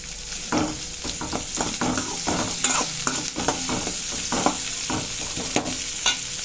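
Raw banana pieces being stirred and sautéed in a frying pan for a Tamil-style banana fry, with steady sizzling under repeated scraping strokes of a spoon against the pan, close and fairly loud throughout.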